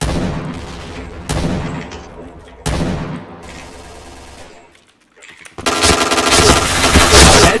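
Rapid automatic gunfire in a video game shooter, loud bursts broken by short pauses, then a dense sustained volley near the end, with a voice underneath.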